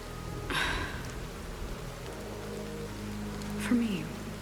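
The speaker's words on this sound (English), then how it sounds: "The rain is like drowning him out." Steady rain in the video game Honkai Star Rail, a constant hiss of falling drops filling the background at moderate level, with a few brief faint vocal sounds over it.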